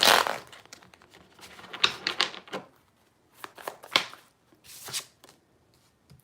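Tarot cards being shuffled in irregular bursts of crisp riffling and flicking, close and clear, with short pauses between the handling sounds and no talking.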